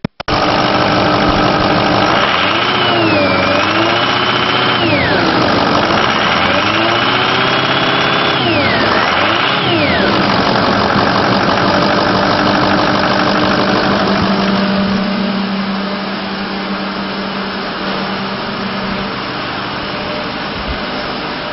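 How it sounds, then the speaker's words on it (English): A 2004 Ford F250 Super Duty pickup with a 6-liter turbo diesel and automatic transmission idles loudly and steadily up close, its diesel clatter joined by a whine that rises and falls early on. "It's a 2004 Ford F250 Super Duty. It's got a 6-liter turbo diesel with an automatic transmission."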